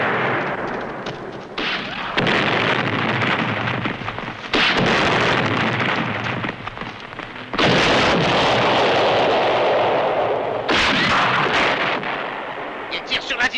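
Dynamite blowing up after being shot, in a French-language film or game: several loud, heavy booming blasts with rumbling roars between them, and voices talking over the din.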